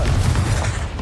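Fiery blast of the Confringo spell in Hogwarts Legacy, a dense, continuous booming roar that holds loud through the whole second without a clear break, heavy in low rumble.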